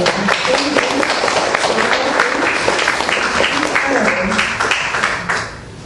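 A crowd breaks into a hearty round of applause, loud continuous clapping mixed with cheerful voices, fading off near the end.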